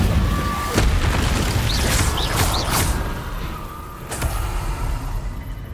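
Incendio fire spell cast in Hogwarts Legacy, heard as loud booming whooshes and crackling bursts, with several sharp impacts over a few seconds and a continuous rumbling game background.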